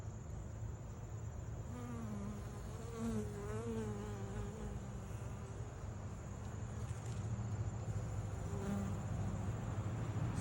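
Honeybees busily buzzing as they gather pollen on a flowering vine, a steady insect drone with individual bees passing close by, their wingbeat whine rising and falling over the hum.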